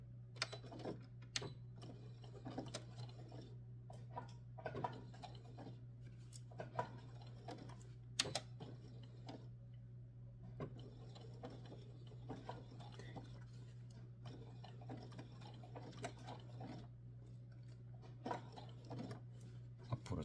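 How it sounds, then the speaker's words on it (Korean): Sewing machine stitching a thick bag strap, running steadily and quietly with a low constant hum under a rapid, faint mechanical ticking throughout, no talk. "여기서 바로 이제 재봉 시작하겠습니다."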